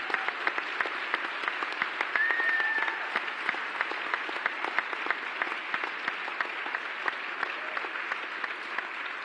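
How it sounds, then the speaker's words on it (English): An audience at an event honoring veterans claps in sustained applause, a dense field of many hands with sharp individual claps standing out, steady and fairly close throughout with no speech over it. "So if we could first give a big round of applause, not just to these veterans"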